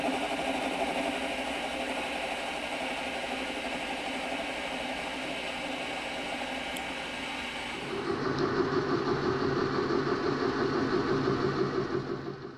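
Metal lathe facing off the end of steel stock: a steady mechanical hum and whir runs throughout, shifting to a louder, rougher tone at about two-thirds through as the cut engages, with no voices.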